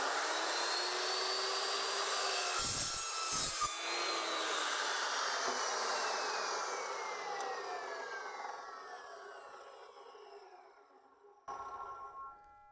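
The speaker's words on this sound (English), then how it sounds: "this is what could be described as a cold cutting saw. So basically, there is no heat" A cold cutting saw slices through metal with a loud, steady grinding whine and a high ringing tone that slowly fades as the cut finishes, then a brief clatter near the end, with no talk.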